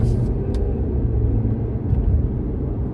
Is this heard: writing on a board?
no